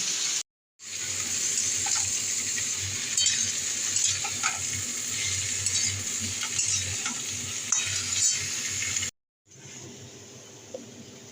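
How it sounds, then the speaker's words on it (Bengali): Papaya pieces frying with onions in a wok give a steady, close sizzle with occasional stirring clicks, briefly cut to silence near the start and again near the end. "এবার আমি পেঁপেটা দিয়ে দিচ্ছি, আর পেঁপেটা দিয়ে একটু আমি ভালো করে ভেজে নেব।"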